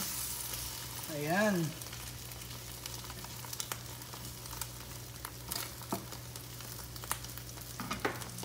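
Small diced potatoes fry in a pan with a soft, continuous sizzle and occasional pops and scrapes of stirring, while a voice briefly speaks.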